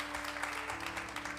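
A church congregation applauds Jesus, a steady, fairly quiet patter of many hands clapping together at some distance, continuing throughout.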